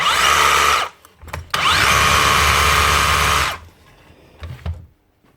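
A DeWalt DCH333 rotary hammer with a faulty hammer action runs its motor without hammering, giving a loud steady whine in two long bursts split by a short stop, then some quieter handling noise.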